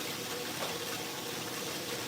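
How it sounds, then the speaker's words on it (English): A kitchen tap runs water while pozole is cooked, making a continuous, even hiss that holds steady at moderate volume and does not change. "I noticed that you could hear the water really"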